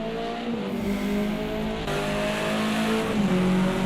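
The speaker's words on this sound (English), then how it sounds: "I don't think I'll ever get enough of that engine tone" A racing car engine screams past at a Silverstone club race, loud and close, its pitch climbing through the gears and dropping sharply between shifts, with no voices over it.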